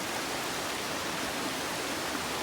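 Broad, steady rush of falling water, like a waterfall heard from close by, holding even and unbroken throughout with no voices.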